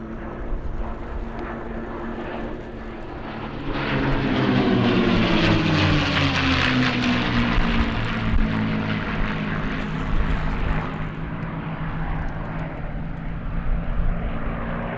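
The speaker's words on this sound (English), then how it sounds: "our three ship of P-51s putting on quite a dazzling performance in their aerobatic routine" Three P-51 Mustang fighters fly an aerobatic routine at an airshow, their piston engines droning loudly as the pitch sweeps down during a pass and then settles into a sustained roar.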